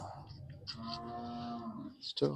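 A heifer or cow at a village livestock fair gives one long, drawn-out moo close by, ending in a short rough grunt.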